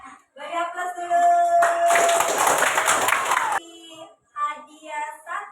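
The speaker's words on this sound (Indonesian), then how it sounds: "Beri aplaus dulu." Classroom applause for the fourth group of students, a burst of clapping lasting about two seconds, close and fairly loud, with a voice talking just before and after.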